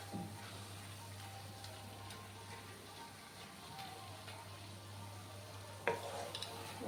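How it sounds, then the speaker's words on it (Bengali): A spoon scrapes and stirs beetroot halwa in a hot pan, soft sizzling and occasional clinks sounding quietly and close over a steady low hum from the kitchen. "নাড়াচাড়া করে নিচ্ছি আমি।"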